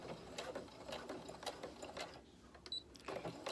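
A domestic sewing machine stitches fabric for a face mask with a pocket, running in a steady rapid mechanical whir with short pauses and restarts, close and alone.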